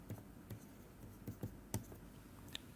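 A pen or chalk writes out a physics expression, a handful of faint, irregular taps and short scratching strokes against a quiet room hiss, with no talking.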